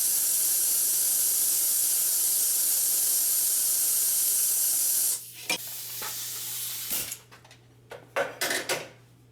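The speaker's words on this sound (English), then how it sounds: "and then we're gonna spray the purge in the DPF." Purge cleaner from a pressure tank hisses loudly and continuously into the DPF of a Dodge Sprinter for about five seconds, then breaks into shorter spurts with clanks and handling noises.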